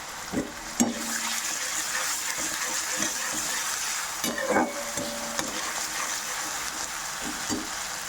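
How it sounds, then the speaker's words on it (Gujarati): Garlic, green chili and ginger paste sautéing with onions in a pan, a steady close sizzle broken by several sharp scraping stirs of a spatula, with no voices. "આ રીતે મસાલો સંતળાઈ જાય એટલે આપણે આ મસાલો નાખી દઈશું"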